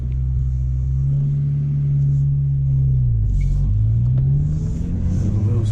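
Mk1 Renault Clio engine revving high and steady, then dipping and climbing again, a loud continuous drone close by with no talk.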